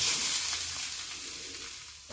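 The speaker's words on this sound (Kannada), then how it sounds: "ತೆಂಗಿನಕಾಯಿ ಒಳ್ಳೆ ಫ್ರೈ ಮಾಡಬೇಕು, ಒಳ್ಳೆ ಪರಿಮಳ ಬರ್ತದೆ ತುಪ್ಪದಲ್ಲಿ ಫ್ರೈ ಮಾಡುವಾಗ" Grated coconut frying in ghee gives a bright, steady sizzle and hiss that slowly eases off, and it cuts out abruptly at the end.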